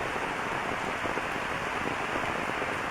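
Steady rain falls on a rainy day, an even hiss of drops striking surfaces with no pauses, moderately loud and with no voices.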